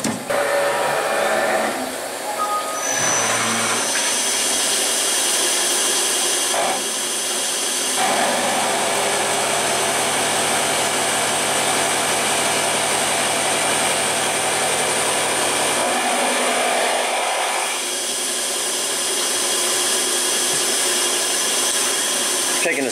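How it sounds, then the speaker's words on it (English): Milling machine (PM727M) facing stock with a 50 mm face mill at 3000 RPM gives a steady high-pitched whine with a rough cutting hiss, its pitch and loudness shifting as passes start and stop. "Taking a 16th here with the 50 millimeter face mill at 10 inches per minute at 3000 RPM"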